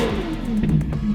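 Ferrari 812 N-Largo S by Novitec, a V12 supercar, revving up close: a loud, rising engine note with rapid pulsing and a brief throttle surge midway, continuous through the short moment with no voices.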